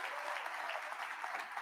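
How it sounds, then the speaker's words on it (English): Brief, fairly faint burst of continuous audience applause at a school leadership keynote and awards session, an even wash of many hands clapping with no break. "Lisa did a great job. Round of applause."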